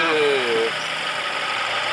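A Mercedes-Benz E250 Avantgarde with a 2000cc engine runs steadily with the hood open, giving a continuous idling hum and a brief tonal whine at the start.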